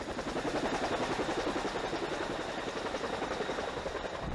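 A CH-47 Chinook helicopter during a nighttime air assault exercise at a Yukon training area, its engines and rotors making a loud, steady, throbbing roar that fills the whole stretch with a rapid pulsing beat.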